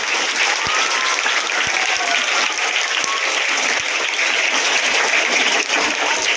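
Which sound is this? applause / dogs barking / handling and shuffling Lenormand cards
applause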